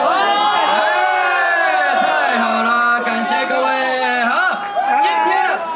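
A large crowd at Xinzhuang Baseball Stadium cheers before a Chinese Professional Baseball League all-star game, with loud sustained shouting and whooping from many voices.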